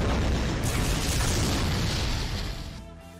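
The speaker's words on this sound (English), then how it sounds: "he does the fire style dragon" The fire style dragon jutsu attack in Naruto x Boruto: Ninja Tribes erupts in a loud, roaring burst of fiery rumble that fills the moment, then thins out and fades toward the end.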